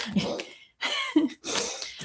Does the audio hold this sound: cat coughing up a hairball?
yes